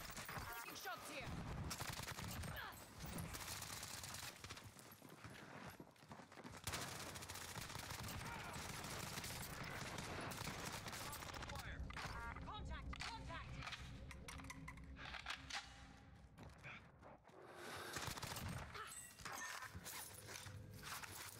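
Dense gunfire from Call of Duty: Warzone, with rapid machine-gun bursts and scattered single shots rolling almost continuously, mixed with footsteps and mechanical clatter while players talk over it.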